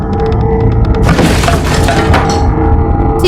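A loud cracking, splintering crash of a boat breaking apart in a whirlpool bursts out and breaks apart over a second or two, over a constant heavy rushing background.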